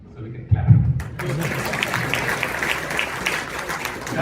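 Audience applause at a Rotary district changeover gathering, starting abruptly and continuing as a steady, dense clapping from a roomful of people for several seconds.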